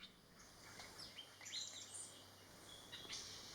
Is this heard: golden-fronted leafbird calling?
yes